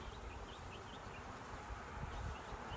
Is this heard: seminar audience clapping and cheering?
no